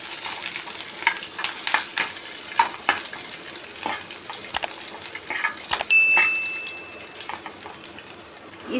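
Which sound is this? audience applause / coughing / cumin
cumin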